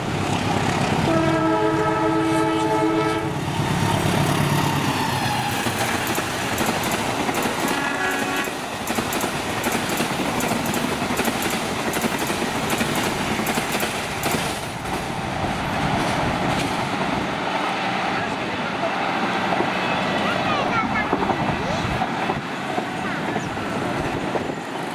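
Train 122C runs straight through Karawang station without stopping, a loud continuous rush of passing wagons with rhythmic wheel clatter and a horn blast early on, while a voice talks over it.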